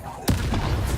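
Confringo spell from Hogwarts Legacy gameplay, a single sharp explosive blast followed by a rumbling tail, close and loud.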